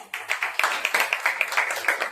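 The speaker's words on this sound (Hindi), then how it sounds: "एक जोरदार ताली बजाइए।" A church congregation at a Wednesday service claps loudly, a fast, steady run of close, sharp claps merging into brief applause.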